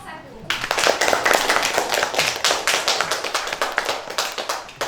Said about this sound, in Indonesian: Ya, kasih tepuk tangan untuk kelompok 1.